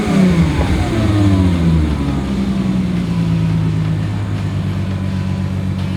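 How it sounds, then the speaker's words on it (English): A 2005 Chrysler Crossfire with a Magnaflow exhaust revs on a cold morning. The close, loud engine note swells and falls back toward a steady deep idle, with no talking. "I wanted to start it for you because you know, with the Magnaflow exhaust, it sounds really, really good."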